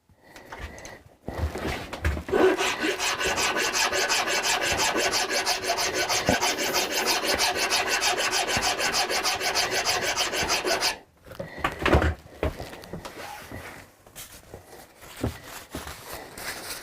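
Wood being filed on a Hofner Galaxie guitar during restoration: a steady, close rasping stroke that runs continuously for about nine seconds, then stops, followed by a few scattered scrapes and handling noises.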